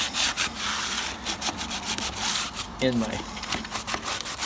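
Rhythmic scraping strokes of a sanding pad rubbing against a wall, close by, with a brief clatter partway through.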